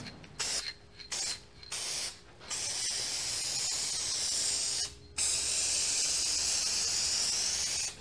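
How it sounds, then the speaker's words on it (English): Short bursts of spray adhesive hissing from a spray can start and stop several times, then give way to a long, steady spray, close and loud, while gluing a 1987 VW Mk1 Cabriolet convertible top. "I need to spray this too because this needs to be glued"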